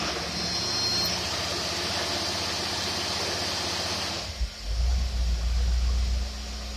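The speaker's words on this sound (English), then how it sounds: "We're going to rev it up, then do the dyno and rev it again." A small engine fitted with a rebuilt Rochester single-barrel carburetor runs steadily with a loud, close mechanical drone, then its tone shifts partway through as the load changes, settling into a deeper, heavier hum with no talking.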